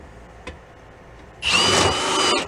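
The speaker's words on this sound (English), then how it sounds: "How about if we take a nice long drill bit and we just put a mark on each one of them." A power drill fitted with a long drill bit spins up after a light tap and whines steadily for about a second while cutting, loud and close.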